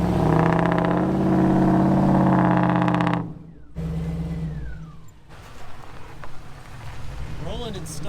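An off-road truck labors over slippery mountain ground with a loud, humming engine that drops away after a few seconds. Quieter rumbling and rustling follow, with a voice surfacing near the end.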